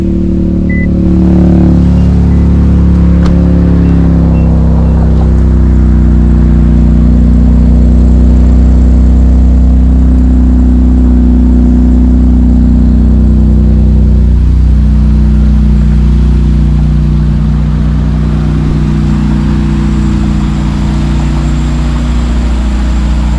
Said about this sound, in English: while we wait for that car to warm up